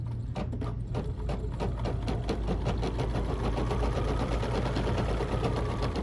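An embroidery sewing machine stitches a sampler block, a fast steady mechanical clatter of needle strokes with a low motor hum, close and continuous with no talking.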